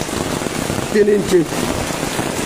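Heavy, steady rain hisses and patters during a flood in Sylhet city, covering the whole moment. Someone speaks briefly over it.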